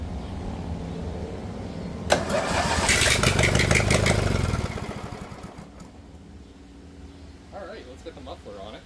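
A 1983 John Deere 116 lawn tractor engine cranks, then sputters and catches, roaring loudly without a muffler for a couple of seconds before dying down, with a voice speaking near the end.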